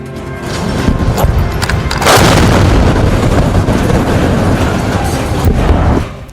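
A car is blown apart by a blast, heard as a loud, sustained roaring burst that erupts suddenly and rumbles for several seconds before cutting off abruptly.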